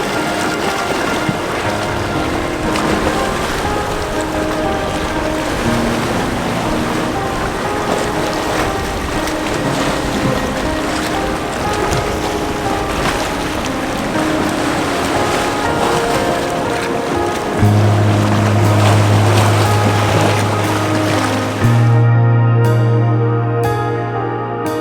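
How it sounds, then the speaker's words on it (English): Ocean waves rolling in and breaking along a shoreline under dramatic skies, a steady broad wash of surf and wind noise throughout, swelling louder and deeper near the end with no voices. "waiting for the waves to break as they come in"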